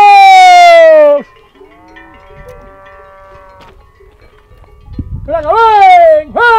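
Tudanca cattle in a mountain pasture in Liébana, with loud, close calls from a person or animal at the start and end, faint clanking cowbells in between, and a rustling rise near the end.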